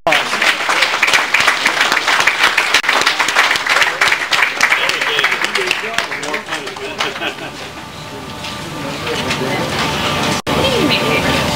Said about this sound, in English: Please give the lodges that participate at the gold level a round of applause.